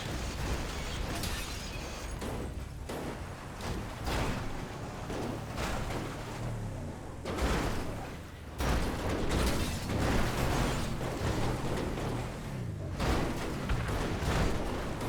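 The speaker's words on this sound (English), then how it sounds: "There's people dying. I can hear explosions." Explosions in GTA 5 during a snowy SUV session, repeated heavy booms and bursts with crashing, shattering debris, loud and chaotic across the whole stretch.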